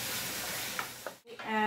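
Marinated chicken frying in a pan gives a steady, close sizzle and hiss, with a brief dip and a few light stirring sounds near the end.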